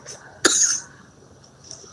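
A single short, sharp cough bursts out once, close and fairly loud, then fades into quiet room tone.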